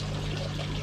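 Water flowing from a pipe into a garden koi pond, a steady, close pouring and splashing that runs throughout at even loudness with no talk.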